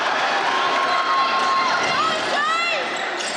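A basketball crowd at an under-18 national finals game roars steadily in a large indoor arena, with shoe squeaks on the court and a commentator talking over the din.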